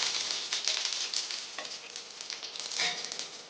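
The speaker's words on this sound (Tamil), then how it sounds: "கருவேப்பிலை வந்துட்டு கொஞ்சம் நல்லா ஃப்ரை ஆகணும்" Curry leaves fry in oil with mustard seeds, giving a crackling sizzle with irregular pops and spits that swell and fade over a few seconds, with no talk.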